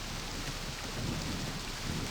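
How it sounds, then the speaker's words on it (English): Steady rain and rumbling thunder fill the night scene at Stone Ship in the video game Real Myst Masterpiece Edition, a dense, continuous downpour with low rolling thunder underneath, no voices. "Is Stone Ship always at night in the rain?"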